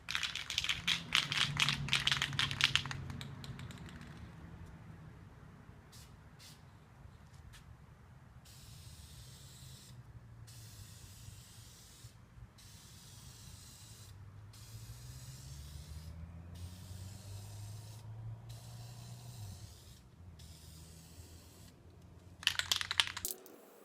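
VHT Nightshade tint paint is sprayed from an aerosol can onto car taillights in a long, steady hiss with brief pauses, close by, with a few rattling clicks at the start and end.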